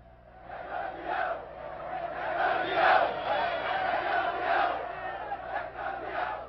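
Flamengo supporters in Rio de Janeiro roar together after the 1981 world title win, a large crowd's sustained cheering and chanting that swells and falls in waves.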